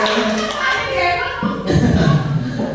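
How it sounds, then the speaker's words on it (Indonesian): A seated group of teachers and parents claps at a school workshop, brisk overlapping hand claps that swell louder in the second half amid murmured voices. "tepuk tangan untuk kita semuanya."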